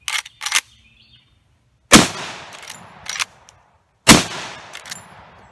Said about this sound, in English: So here goes the function test with the two reloads. Shooting into an old dead tree here.